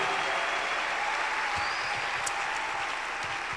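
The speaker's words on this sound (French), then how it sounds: "Clap your hands" A church congregation claps their hands during a Sunday morning service, a steady, dense wash of applause filling the whole stretch at even loudness.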